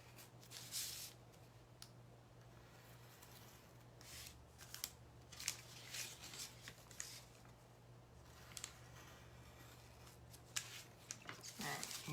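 Scissors trim butcher paper in a series of quiet, close snips and paper rustles, irregular in rhythm, over a low steady background hum.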